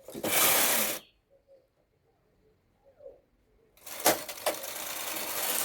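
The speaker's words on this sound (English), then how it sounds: "Fix my carriage on odd. Then knit 4 rows." Machine knitting carriage slides across the needle bed in two loud, rasping passes, one at the start and one at the end, with a quiet pause between them holding faint clicks.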